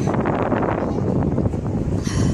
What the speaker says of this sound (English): It's windy up here. Tells you how high we are.